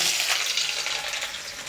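Chopped onions fry in hot oil for a chicken dish, a loud continuous hiss and crackle heard close up, with no speech over it.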